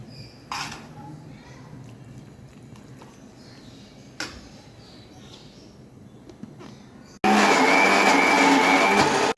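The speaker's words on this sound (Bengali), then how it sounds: "আমি এটা নিজের ইচ্ছা মতো ব্ল্যান্ডারে করে দিচ্ছি" An electric blender whirring to mince meat for kebab, starting abruptly and running loud and steady near the end after a quieter kitchen stretch with soft knocks.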